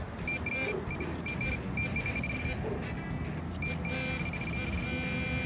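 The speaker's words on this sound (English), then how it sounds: "A pinpointer is a must when metal detecting." Handheld metal detecting pinpointer sounding over a buried target, giving bursts of sharp high-pitched electronic beeps in irregular clusters, close and clear over rustling ground noise, with a brief faint voice in the background.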